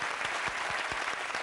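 Steady, dense applause from a studio audience on a Tamil television debate show, loud and unbroken for the whole moment with no voices over it.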